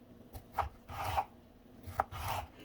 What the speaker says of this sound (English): I'm going to chop them a bit smaller.